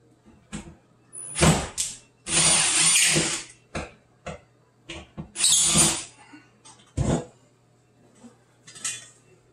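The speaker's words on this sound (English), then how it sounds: "Drill another pellet hole." A power drill bores pilot holes for mounting an over-the-range microwave, with several short whirring bursts of varying length separated by pauses, close and fairly loud, with clinks of handled parts between them.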